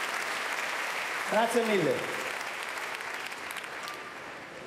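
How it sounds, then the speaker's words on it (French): Audience applause at the Monte Carlo Festival, a steady wash of clapping that briefly swells as a voice speaks over it, then continues evenly. "On les applaudit très fort, bravo"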